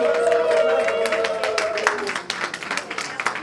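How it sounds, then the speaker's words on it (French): An audience claps for the actors at an award ceremony honouring artists and comedians. The applause starts dense and sustained, then thins into scattered individual claps, with a faint tonal sound beneath it early on. "on peut tous ensemble applaudir les acteurs"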